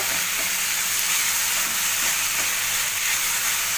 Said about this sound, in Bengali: তো এবার এটাকে আমি খুব ভালো করে মশলাটাকে কষাবো